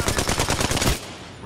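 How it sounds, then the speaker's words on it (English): Rapid automatic gunfire from an Apex Legends match, a loud close burst of evenly spaced shots for about a second that stops abruptly, leaving a faint hiss. "I'm getting shot! Firing!"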